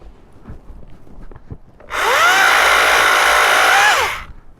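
A Stihl KMA135R battery-powered saw cuts through a small fallen tree about 1.5 to 2 inches thick, giving one loud, steady, whining cut of roughly two seconds after quiet background sounds, then winding down.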